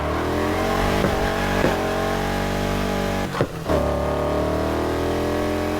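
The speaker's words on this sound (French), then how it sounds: "Et tranquille, amène cette voiture sur l'aire de départ." A car engine in the racing video game Need for Speed Heat revs steadily and loudly throughout, with harmonic engine tones rising, briefly dipping and cutting out near the middle before the revving resumes.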